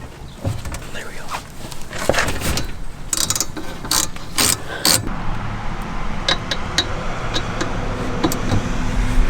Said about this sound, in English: Bust that nut, Noah.